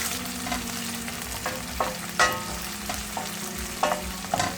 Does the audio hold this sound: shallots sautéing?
yes